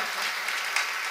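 Audience applause at a Bharat Vikas Parishad Gujarat training session, a dense, even wash of many hands clapping at steady loudness for about a second, with no voices over it.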